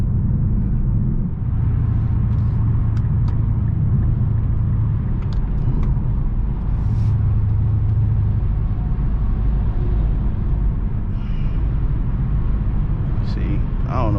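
Steady low road rumble inside an Infiniti M56 while driving, a continuous muffled engine and tire drone with faint higher ticks and clicks on top, close and even throughout with no talking.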